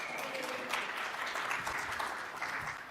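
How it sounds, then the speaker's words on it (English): A conference keynote audience breaks into applause, a moderate spread of clapping that carries on evenly for a few seconds at some distance. "Thank you, Bill Kaplan, for starting the applause"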